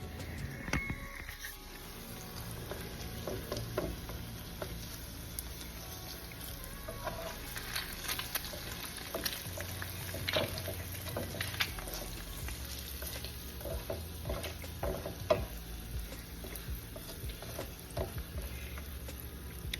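Food frying in a pan on a stovetop, a soft steady sizzle and crackle with occasional pops and clinks, quiet and continuous.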